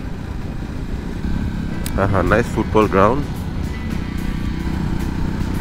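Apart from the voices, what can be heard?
motorcycle riding on road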